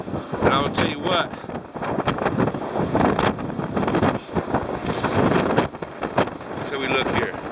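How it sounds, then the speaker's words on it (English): Strong wind buffets the microphone in loud, gusty roars on the deck of the Disney Magic cruise ship, with people talking close by throughout. "But it is real windy."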